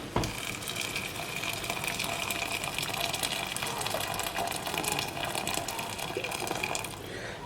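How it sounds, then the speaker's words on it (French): Water poured into a pot of bulgur while preparing a meal, a steady, fairly close rushing gush that continues without a break for several seconds. "je vais rajouter de l'eau"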